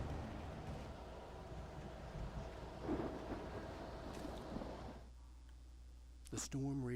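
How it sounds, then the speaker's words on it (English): A raging thunderstorm in the video game Alan Wake Remastered, with a steady wash of rain and low rolling rumble that drops away partway through, followed by brief faint sounds; a voice speaks over it. "The storm raged on"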